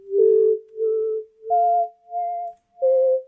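A synth shaped by a ShaperBox sine-wave volume filter at 1/4 plays a simple melody, each sustained tone swelling and fading in a smooth quarter-note pulse, clean and alone.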